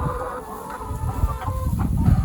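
A chicken clucks in low, murmuring bursts close by inside a farm coop with nest boxes, with a steady background hum.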